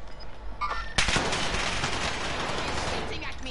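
Bursts of automatic gunfire in Call of Duty on Rebirth Island, a sharp onset followed by sustained loud rattling shots, with game voices and sounds underneath.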